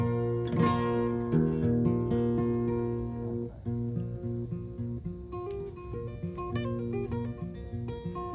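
An acoustic guitar in a lowered altered tuning with a capo rings out fingerpicked chords and melody notes, sustained and close, played alone without voice.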